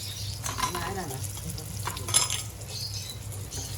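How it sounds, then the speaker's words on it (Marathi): Surmai (king mackerel) fish frying on a gas stove, a steady close sizzle with scraping of utensils and light clinks of pans and cutlery throughout. "सुरमई फ्राय जरा गॅसवर गॅसवर लागते"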